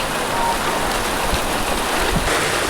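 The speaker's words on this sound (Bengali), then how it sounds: "দেখো গাইস, পুরো জল পড়ছে এই সাইডে।" Water pouring down steadily at one side of a home, a dense, even rain-like hiss that stays constant and fairly loud throughout, with no talking.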